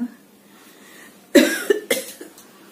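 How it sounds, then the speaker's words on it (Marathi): A sharp, loud cough bursts out during a Marathi one-actor stage performance, followed by a second, smaller cough, both close against a quiet background. "तुम्ही खोकलात आत्ता"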